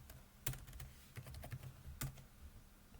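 Keys clatter on a computer keyboard in quick irregular bursts, with two louder strokes standing out. The typing is close and faint, over a low background hum.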